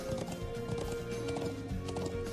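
Horse hooves clip-clop in a quick, steady gallop while riding in the highlands of the video game Trails of Cold Steel, with a faint tonal music bed underneath.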